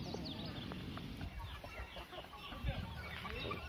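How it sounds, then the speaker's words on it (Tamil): Naked Neck chickens cluck softly at close range, with scattered short calls over faint background noise; no clear speech. "இந்த கோழி வந்து மொட்டை கழுத்து கோழின்னு சொல்லுவாங்க"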